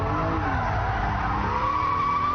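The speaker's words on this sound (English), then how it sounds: "So now we'll come up, tweak the handbrake, and then" BMW Z3 M Roadster tires squealing and skidding as the handbrake is pulled into a donut, a loud continuous screech over engine noise, close and brief with no talk.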